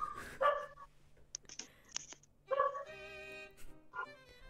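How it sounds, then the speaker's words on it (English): Short, clipped barks from a dog in the Hatoful Boyfriend visual novel, a few sharp yaps spaced apart over a faint background tone, with no talking. "What about that dog?"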